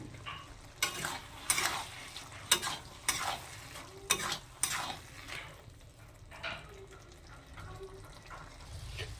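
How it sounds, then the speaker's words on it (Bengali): Cabbage curry being stirred in a pan after ghee is added: a series of scraping, clattering stirs over a soft sizzle, close but fairly quiet, with no talk. "ঘি দিয়ে দিয়েছি, এবার নেড়ে নেব।"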